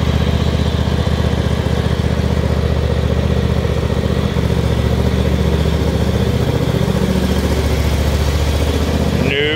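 A John Deere D140 lawn tractor engine runs steadily and loudly throughout, driven on a test drive up a steep incline, with a constant mid-pitched drone and no break in its rumble.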